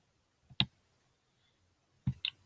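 Two separate computer mouse clicks ring out about a second and a half apart while code blocks are dragged and snapped together, crisp and close against a quiet background.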